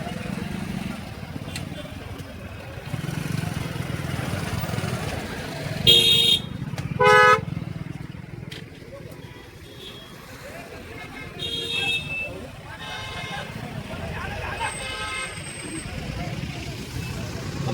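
Busy road traffic crowds a street during a large gathering, with several short car horn toots ringing out over engine rumble while people talk nearby.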